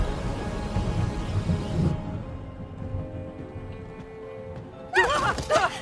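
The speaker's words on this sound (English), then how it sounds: "And it's thundering." Thunder in an episode of the animated series Murder Drones: a low, broad rumble rolls through the first two seconds and fades into a quieter background before other sounds return.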